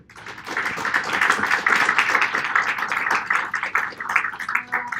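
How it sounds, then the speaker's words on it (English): Audience at a UNGA78 health rights event giving a round of applause for two guest speakers, with steady, fairly loud clapping from a moderate crowd that carries on for several seconds and thins a little at the end. "We had a round of applause for them for the good job that they've done."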